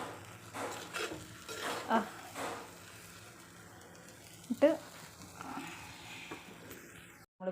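Avial, a mixed vegetable dish, being stirred in a pot, with a few soft scraping and clinking strokes against the vessel amid quiet kitchen background noise.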